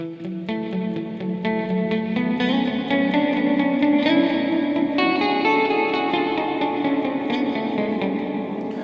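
An electric guitar plays a sequence of plucked notes drenched in heavy reverb, each note blurring into a long, washy, sustained decay.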